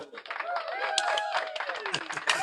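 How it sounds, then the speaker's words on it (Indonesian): An audience claps at an Indonesian university language class event, a steady patter of many hands close by, mixed with voices calling and chattering over it. "tepuk tangan dulu"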